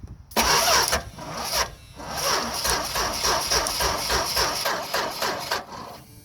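An old car engine that has sat unused for years cranks with a rapid, rhythmic chugging that keeps going for several seconds, loud and close, with a brief pause after the first burst.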